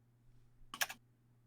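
A short burst of keystrokes on a computer keyboard, a quick cluster of clicks lasting a fraction of a second over a quiet room with a low steady hum.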